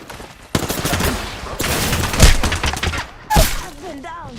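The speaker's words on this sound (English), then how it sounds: "Getting shot at. The enemies are shooting at me." Enemy gunfire in the shooter game Apex Legends: rapid automatic bursts rattle in close, loud clusters separated by brief gaps, with a few heavier impact thumps mixed in.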